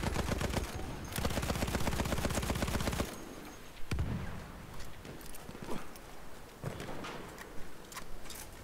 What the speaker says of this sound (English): That is a sniper. He's firing at me.